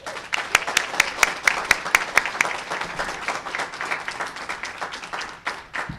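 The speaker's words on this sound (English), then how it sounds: "let's give a huge round of applause to our Mayor" An audience at a city legislation signing applauds for Mayor Bruce Harrell, a dense burst of clapping with sharp individual claps, strong at first and gradually thinning.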